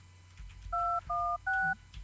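Three touch-tone dialing beeps, each a steady two-tone chord lasting about a quarter second, sound in a quick, evenly spaced row against a quiet room with faint background hum as a phone call is placed.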